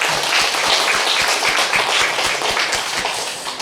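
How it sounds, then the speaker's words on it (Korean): Church congregation applauding at a sermon gathering, a steady, dense wash of many hands clapping together that holds for several seconds with no voices over it. "참 부모님께 감사의 박수 한번 보내주시면 좋겠습니다"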